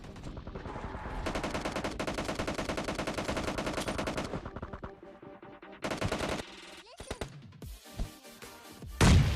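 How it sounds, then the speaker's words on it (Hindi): Sustained automatic gunfire from a squad fight in the mobile battle royale game PUBG Mobile Lite, a long dense rattling burst followed by scattered shorter shots and thuds, loud and without talk. "उधर से बहुत खतरनाक वाली फायरिंग की आवाज़ आ रही थी"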